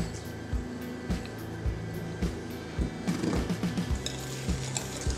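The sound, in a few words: whisking coconut sugar into cookie ingredients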